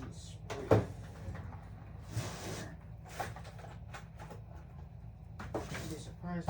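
Someone rummages through a drawer for spare fuel line, with a string of close clunks, knocks and rustling bursts separated by short quiet gaps.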